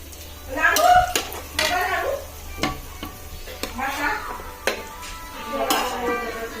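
Prawn biryani is scooped out of a pot with a spoon, giving scraping, clinking and rustling strokes of utensil on metal, close up, with soft background noise between the strokes.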